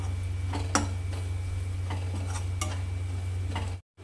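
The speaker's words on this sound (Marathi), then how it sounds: "याला छान आणखी असं मिक्स करून घ्यायचं आहे" A spoon mixes biryani masala in a pan for egg biryani, giving scattered clinks and scrapes against metal over a low steady hum, with a short silent gap near the end.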